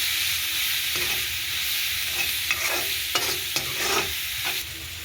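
Spices being stirred into a cabbage dish frying in a pan, a continuous close sizzle with a run of rhythmic scraping strokes from a spoon against the pan.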